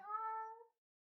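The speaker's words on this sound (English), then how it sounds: "that was my cat, if you heard that." A single domestic cat meows once, a clear, tonal call lasting under a second, close to the microphone and alone, followed by silence.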